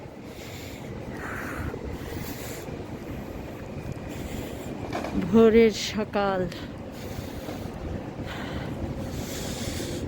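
Cool morning wind buffets the microphone outdoors in the UAE, a steady rushing roar with low rumble throughout while a person speaks briefly over it.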